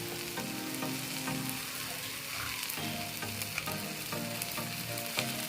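Ginger garlic paste frying in a pan of oil with salt, a steady sizzle with occasional stirring scrapes and clicks, close and continuous.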